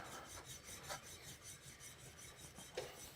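A steel chisel's back is rubbed flat by hand on a sharpening stone, giving a steady, repetitive rasping scrape in even back-and-forth strokes, close and fairly quiet, with no talking.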